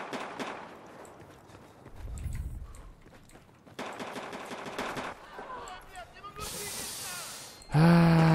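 Revolver gunfire in the video game Battlefield 1, sharp reports scattered across the clip among other game noises and effects, with a voice talking partway through.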